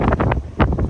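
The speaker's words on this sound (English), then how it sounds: "even though it's super, super cold, super, super windy" Strong outdoor wind buffets the microphone on a very cold, windy day, producing loud rumbling gusts in two heavy bursts with no voice.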